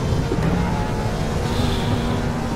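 A 1966-era Ferrari race car in the Assetto Corsa racing game at a rainy Spa circuit drones with a loud, steady engine note that holds throughout, with no talking.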